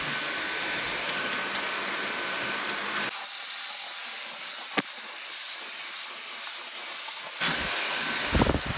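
A Dyson V7 Animal+ cordless vacuum cleaner runs on its max setting with a loud, steady, airy whine. The whine cuts off about a third of the way through, with a small click in the quiet, then starts up again near the end.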